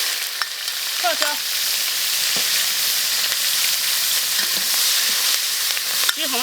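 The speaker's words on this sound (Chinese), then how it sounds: "加点油，炒辣椒。" Chili peppers stir-fry in hot oil in a wok, giving a loud, continuous sizzle with occasional scraping stirs of the spatula and a brief voice near the end.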